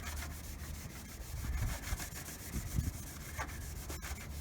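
Old car paint being hand polished with a terry cloth towel, a steady soft rubbing swish with small surges of pressure, close and fairly quiet.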